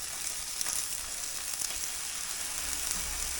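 Pork chops and steaks sizzle steadily on a flat-top griddle, a continuous close, bright frying hiss with small crackles and pops throughout.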